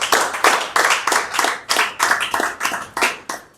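An audience applauds a sponsor of a land ownership scheme at a BUILDBAY press briefing, with steady, fairly loud clapping from many hands that pulses in waves and runs the whole time without talk.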